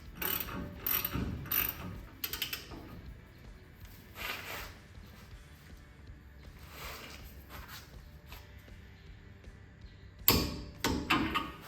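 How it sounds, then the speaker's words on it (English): A ratchet tightens an 18mm upper control arm bolt on a Ford F150 during a lift kit install, giving bursts of rapid clicking with pauses, metallic clanks and a sharp knock near the end. "This is an 18mm. We're going to tighten it down to 50 foot-pounds."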